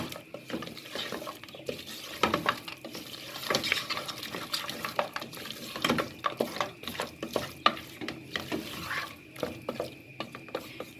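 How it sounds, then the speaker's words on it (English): Utensil scraping and clattering against a pot of maghlooba, an Arabic dish, in an uneven rhythm, with a steady sizzle underneath; fairly close and moderately loud, no voices. "Now I'm going to mix all this."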